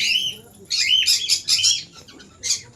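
A breeding pair of conures gives repeated shrill chirps and squawks in close, loud bursts, with short gaps between calls and faint background noise.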